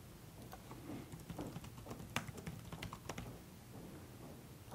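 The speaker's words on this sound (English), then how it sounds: "Type in the key that we chose." Computer keyboard being typed on in steady, quick bursts of soft clicks with small pauses, fairly quiet and close, with no voices.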